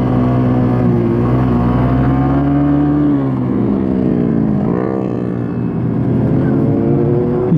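Suzuki GSX-R 150 motorcycle engine running loud and close during a ride, a steady buzzing drone with slight pitch shifts and a brief dip and rise as revs change.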